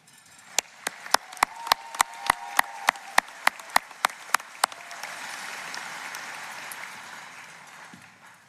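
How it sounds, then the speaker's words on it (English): A graduation commencement crowd gives a round of applause for a student speaker, one loud regular clap ringing out near the front before the broad wash of audience clapping swells and then fades away. "Why don't you have another round of applause for Jordy?"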